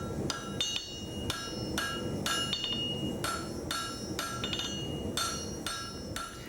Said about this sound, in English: Keith keeps the metal glowing while he hammers it into shape